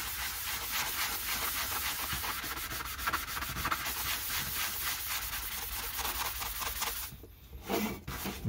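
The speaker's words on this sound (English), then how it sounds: "I just use a sanding block with quite a rough grain" A rough-grit sanding block scrubs across a copper plate in steady, close back-and-forth strokes, a continuous gritty rasp that pauses briefly near the end before resuming.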